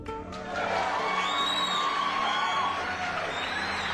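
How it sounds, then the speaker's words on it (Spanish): Crowd shouting and cheering as a radio drama effect, rising after a brief quiet start into a steady, fairly loud wash of many voices whooping and calling out, sustained to the end. "Y hubo gritos y aplausos."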